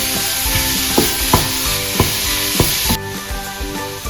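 Carrots for halwa are stirred and sautéed in a pan: a loud steady sizzle punctuated by a series of regular spoon scrapes and knocks about every half second, then the sizzle drops off sharply near the end.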